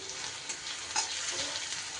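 Finely chopped onions fry in hot oil with a pinch of salt, a steady close sizzle and crackle filling the short stretch alone, with a faint stir or scrape near the middle.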